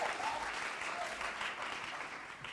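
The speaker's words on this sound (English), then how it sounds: "Clap your hands, audience." A crowd applauds steadily for a few seconds, a dense wash of clapping from many hands at a moderate distance.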